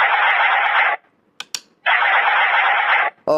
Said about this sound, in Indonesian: kita coba pencet trik bento gimana bunyinya.